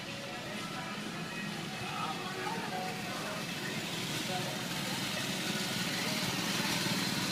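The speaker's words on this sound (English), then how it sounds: "This is the antique car ride at the north end of the park." Antique cars on a ride at the north end of Cedar Point amusement park, their engines idling and puttering steadily under a continuous wash of crowd noise and nearby chatter.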